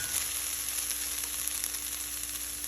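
Hot oil sizzles steadily in a cooking pan as a curry of koi fish and potatoes begins. The crackling hiss is even and close, with no talking.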